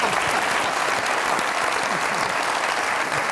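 A studio audience at a comedy talk show breaks into dense, sustained applause, many hands clapping at once in a loud, even wash that fills the whole moment.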